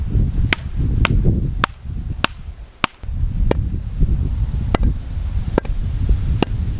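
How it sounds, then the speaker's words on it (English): Dry seasoned firewood struck repeatedly, making sharp, bright cracks roughly every half second to a second, close and distinct above a low rumbling background. "here's the sound of the dry wood."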